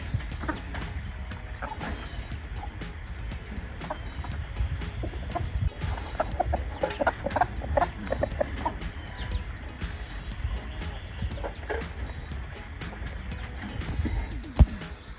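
Chickens cluck and murmur in short, scattered bursts over a steady outdoor background, with occasional sharper peeps.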